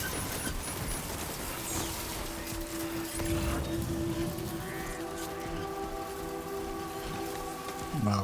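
Steady rain patters in a game soundscape, with tonal hums and synthetic tones layered over it, fairly constant throughout.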